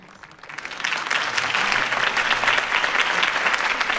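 Applause from a large crowd in the video game Batman: The Telltale Series swells in quickly and holds steady, a dense continuous clapping with no voices on top.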